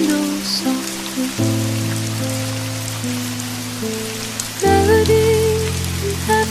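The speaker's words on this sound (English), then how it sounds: "Rain taps on a window softly." Soft rain taps steadily on a seaside cafe window, a gentle, even patter running beneath mellow piano notes.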